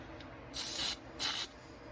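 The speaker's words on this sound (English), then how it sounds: "We washed them with the carb cleaner. All the jets." Carb cleaner sprayed onto ATV carburetor jets in two bursts of about half a second and a quarter second, sharp close hissing with a brief pause between them.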